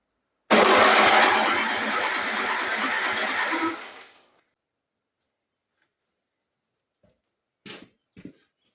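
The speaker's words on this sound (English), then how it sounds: "I did put a little bit gasoline in the tank, so let's try to start it" An old 30-year-old Stiga Villa lawn mower is pulled to start, giving a loud rattling whir for about four seconds that fades out without catching, followed by a few brief clunks in near silence.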